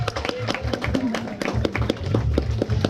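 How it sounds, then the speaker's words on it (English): Audience clapping and applause at a flamingo show, with scattered sharp claps over steady crowd murmur and voices. "And a big round of applause as they come to their first stop."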